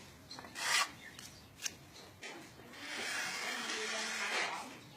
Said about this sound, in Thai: จับเกียงอย่างนี้นะครับ กูดออก